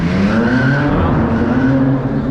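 A car with a Hurricane six-cylinder engine roars loudly and steadily as it accelerates at an auto show, its deep rumbling note rising slightly over a couple of seconds with no talking.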